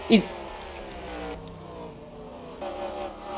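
Game NASCAR stock car engine drone at Bristol, a steady mid-level roar with layered harmonics and a brief louder burst at the start, voices talking over it.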